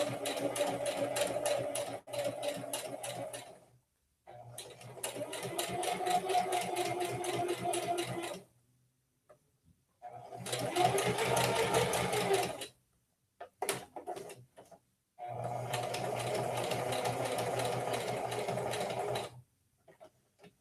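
A sewing machine back stitching slowly during a live sewing session, its steady mechanical whir running in several bursts separated by short pauses, close and fairly loud with no talk over it.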